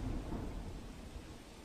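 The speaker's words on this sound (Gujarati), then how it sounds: "જે ગ્રામીણ વિસ્તારોની અંદર કમોસમી વરસાદ પડ્યો છે" A thunderstorm with unseasonal rain in a rural part of Gujarat's Dhari taluka: a faint, low rolling rumble of thunder fades over a short stretch while steady rain hisses beneath it, with no voices.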